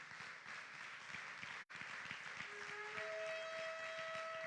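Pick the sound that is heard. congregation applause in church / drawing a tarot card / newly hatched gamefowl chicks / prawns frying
congregation applause in church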